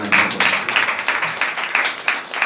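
An audience at a Christian thanksgiving gathering claps hands together in a quick, rhythmic pattern, a close and fairly loud stream of overlapping claps.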